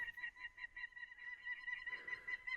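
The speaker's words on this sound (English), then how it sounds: "Some birds up there really don't like me being here." Birds calling from above in a deep, narrow desert sandstone canyon along Upper Iron Wash in Utah, a repeated high-pitched chirping call in steady rhythm, faint and echoing with no one speaking.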